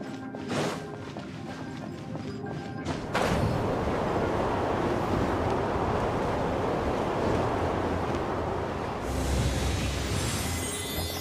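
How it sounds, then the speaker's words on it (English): A rushing wind current in Genshin Impact, played on mobile, swells into a steady, loud broadband roar after a few seconds, with a further gust surging near the end; no one talks. "Let's ride this wind current, shall we?"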